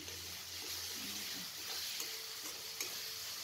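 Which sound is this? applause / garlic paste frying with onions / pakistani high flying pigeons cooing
garlic paste frying with onions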